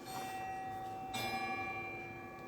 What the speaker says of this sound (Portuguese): Na verdade é o sino aqui de casa mesmo, 7 horas pontualmente.